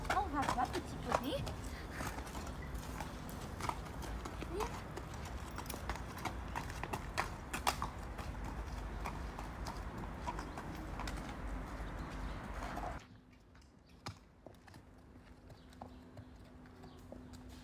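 Pony hooves clip-clopping at a walk on a hard surface, a steady run of sharp hoof strikes close by, with talk over them and the noise dropping away near the end.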